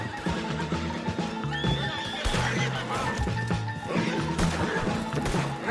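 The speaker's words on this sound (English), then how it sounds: "Put Strauss on the back of John's horse" A horse whinnies loudly in Red Dead Redemption 2 amid clattering hooves and crashing impacts, over a busy, dramatic backdrop with faint voices.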